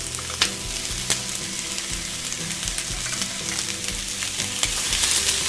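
Onion and tomato frying in a pan for chutney, a loud continuous close sizzle with occasional stirring clinks and scrapes, no talking.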